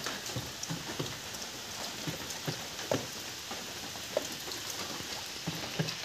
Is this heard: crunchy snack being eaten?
no